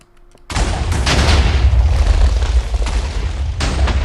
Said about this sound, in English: That was a big explosion, and we somehow survived.